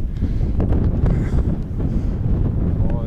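Strong wind blasts across a snowy mountain summit, buffeting the microphone with a loud, continuous low roar and rumble throughout.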